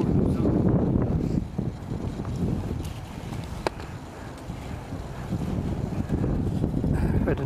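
Strong wind gusts buffet the microphone on a blustery open field day of kite or model flying, a rumbling, roaring low noise that swells and eases throughout.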